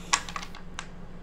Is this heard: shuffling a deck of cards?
yes